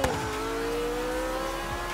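An Audi V10 engine in a street race in Forza Horizon 3, droning steadily at high revs, close and loud throughout with a slowly rising pitch.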